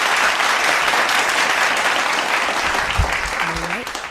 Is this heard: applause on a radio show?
yes